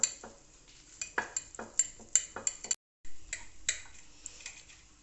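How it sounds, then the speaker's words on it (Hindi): A knife slicing an egg omelette for an anda karahi into pieces, with crisp clicking taps against a pan or board in an irregular rhythm, close and fairly quiet, briefly pausing partway. "अब ये जो हमने ऑमलेट तैयार की है उसको अब हम इस तरह काट लेंगे"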